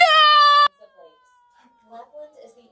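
A loud, high, strained voice screams from inside a vent in a parody skit, then cuts off abruptly, leaving faint scattered sounds.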